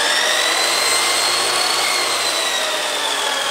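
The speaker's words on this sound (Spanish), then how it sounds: "Un taladro para batir la masa." A power drill whirs steadily as it beats dough in a home kitchen, a loud, continuous high-pitched grinding hum that holds without a break for several seconds, close to the listener.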